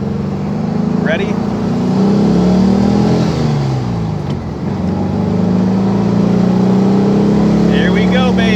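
1957 Beck Speedster Porsche replica accelerating in first gear, a loud, close engine whose pitch rises steadily through the rev, eases briefly, then climbs again, with a person talking over it.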